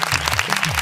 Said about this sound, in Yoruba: Ẹ pàtẹ́wọ́